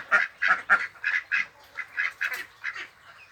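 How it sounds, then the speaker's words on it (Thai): Young Yi Liang ducks, about four months old and kept separated, give a run of roughly a dozen short nasal quacks and honks in uneven bursts, close by and fairly clear. "เป็ดอีเลี้ยงหนุ่ม ที่เราแยกไว้นะครับ"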